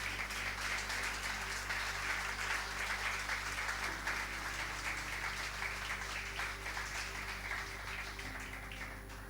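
A church congregation claps during a sermon, broad sustained applause over a steady low hum, fairly even in loudness and tapering slightly toward the close.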